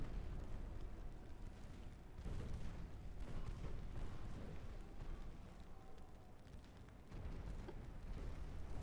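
Naval guns firing in the warship game Ultimate Admiral: Dreadnoughts, heard as a continuous heavy rumble with repeated deep booming bursts and no talking.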